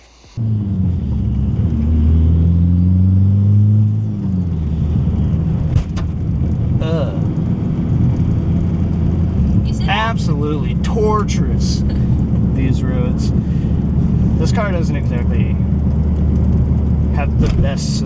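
A car with Eibach Pro Kit shocks and struts, owned for nearly 20 years, drives along with a loud steady engine and road rumble; a voice talks over it in the second half.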